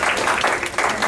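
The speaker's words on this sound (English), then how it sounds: "Let's give Zach a round of applause." A classroom group of kids briefly applauds a quiz winner, with scattered clapping blended with chatter for about a second.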